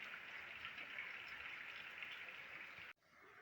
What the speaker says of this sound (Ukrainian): Так гарно стояти і дивитися на дощ, коли ти в сухому під навісом.